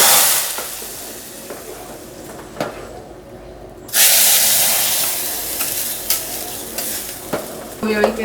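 Hot ghee with fried cumin and curry leaves is tipped into dal and erupts in a loud, close sizzle that surges suddenly, then hisses on steadily with a few scattered pops and no talking.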